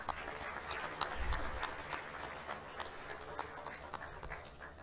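An audience at a college convocation ceremony applauds, a faint, distant spatter of clapping heard steadily across a hall.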